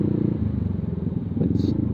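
A Yamaha Aerox 155 scooter fitted with a ProLiner Neo Silent exhaust idles or rolls in traffic with a low, steady pulsing burble, close by and fairly subdued, with a brief higher tone near the end.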